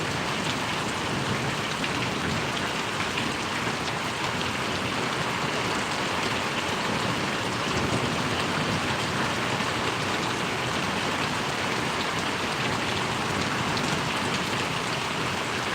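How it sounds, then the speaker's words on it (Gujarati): Heavy rain pours down steadily on Parvadi village in Gariadhar taluka, a dense, loud, unbroken hiss of drops on surfaces that holds evenly throughout. "હવે વરસાદ પાછો વધ્યો"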